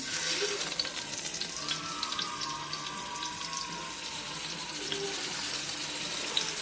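Blackened fish fillets, cooked from frozen, are laid presentation side down in a hot pan, giving a steady bright sizzle with faint clinks and no talk.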